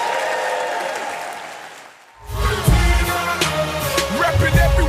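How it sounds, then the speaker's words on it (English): An audience applauds a guest at a soccer celebration event in Canada: dense clapping for about two seconds, a brief lull, then music starts with the crowd still faintly audible. "Give her a round of applause."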